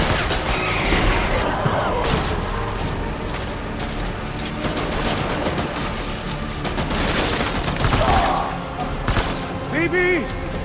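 Rapid bursts of gunfire from the Death Stranding video game crackle through a dense, continuous battle din with booms and mechanical clatter, while a player talks over it.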